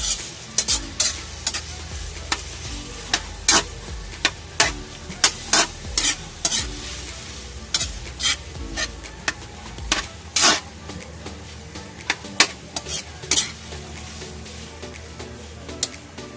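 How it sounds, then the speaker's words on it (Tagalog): Miso cooks in a pan for sinigang na lapu-lapu, a steady close sizzle under repeated sharp scrapes and clacks of a spoon stirring against the metal, irregular and continuous throughout. "Lalagay na po natin yung ating miso. Lutuin din po mabuti yung miso."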